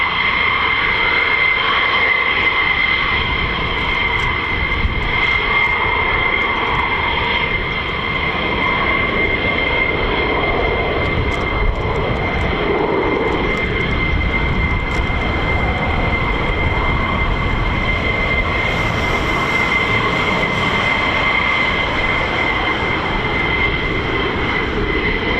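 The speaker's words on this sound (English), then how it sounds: "Here comes our F-15E Strike Eagles." F-15E Strike Eagle fighter jets passing over the base at RAF Lakenheath, a loud, continuous engine roar that holds steady with a droning tone and never fades.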